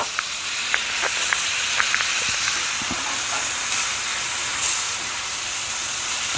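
Flipped cheeseburger patties sizzle on a hot griddle, a steady broad hiss with scattered small pops and crackles close by, no talking.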